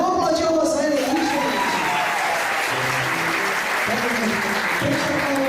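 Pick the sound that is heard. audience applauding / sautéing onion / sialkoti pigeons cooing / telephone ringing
audience applauding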